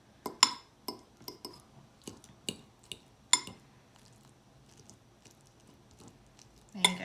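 A fork clinks and scrapes against a plate while soft food is cut into bite-sized pieces, giving a series of sharp, close taps spaced about half a second apart, then a pause and a final clatter.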